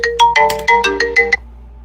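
A phone ringtone plays a loud, bright melodic run of about eight quick electronic notes, close and alone, then stops.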